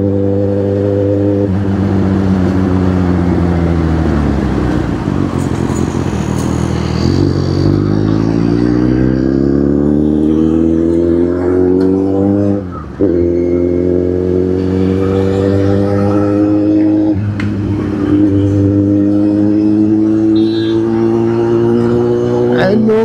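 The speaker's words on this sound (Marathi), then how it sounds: "गाडीचा आवाजच एवढा आहे ना सही आहे ना" A Kawasaki Z800 motorcycle engine drones loud and close under way, its pitch sliding down and climbing again through revving and gear changes, with a brief dip midway.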